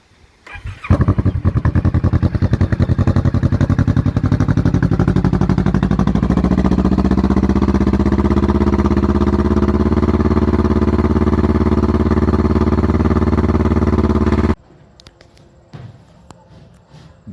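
A 2019 Kawasaki Vulcan S fitted with a 16-inch 410mm black ceramic Delkevic exhaust starts up and settles into a steady, loud, close idle with a throbbing pulse, then cuts off abruptly near the end.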